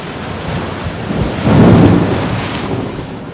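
A deep rumbling surge swells and crashes, like heavy storm waves or thunder, loud and windy, then slowly fades back to a rushing roar.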